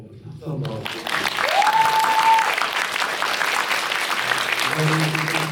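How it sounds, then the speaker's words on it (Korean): An audience at a Korean film Q&A screening of 'The World's Owner' breaks into steady applause, with a voice briefly heard before it and a speaker resuming near the end. "박수 한번."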